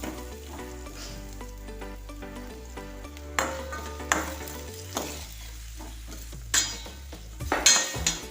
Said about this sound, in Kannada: ಹೆಚ್ಚಿಟ್ಕೊಂಡಿರೋ ಹಸಿಮೆಣಸಿನ ಹಾಕಿ ಫ್ರೈ ಮಾಡಬೇಕಾಗುತ್ತೆ. ಅದಕ್ಕೆ ಟೊಮೊಟೊ ಮತ್ತು ಈರುಳ್ಳಿನ ಹಾಕ್ಕೋಬೇಕಾಗತ್ತೆ.